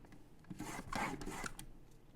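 Cardstock being scored on a Stampin' Trimmer gives a brief, close, dry scraping rasp lasting about a second, with no voices.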